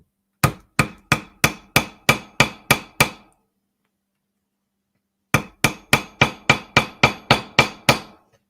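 A hammer strikes a metal leather stamp to press a maker's mark into leather, two loud, evenly spaced bursts of about nine sharp blows each separated by a pause, close and alone.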